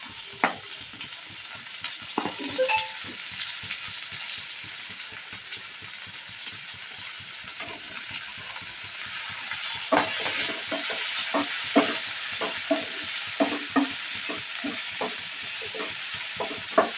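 Onions fry in a pan with ginger and garlic, a continuous sizzle under repeated spoon scrapes and knocks as they are stirred, close and moderately loud.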